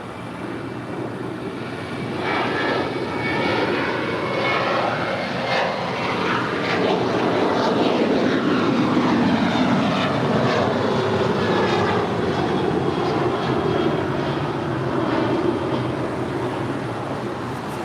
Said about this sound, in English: Our first departure is United Airlines flight 1264 heading to Denver, Colorado. It's a 737-800.